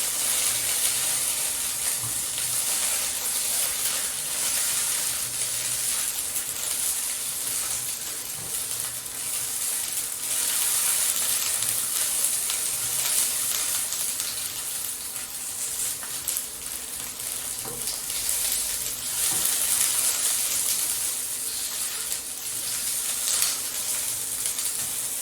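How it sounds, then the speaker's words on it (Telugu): Onions and tomato fry in hot oil for donne mutton biryani, giving a steady, bright sizzle and hiss that continues unbroken throughout with faint occasional clinks. "ఇప్పుడు ఆయిల్ వేసుకొని ఉల్లిపాయలు టమోటా వేయించుకున్నాం."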